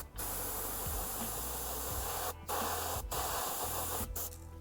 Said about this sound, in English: just spraying on my paper towel over there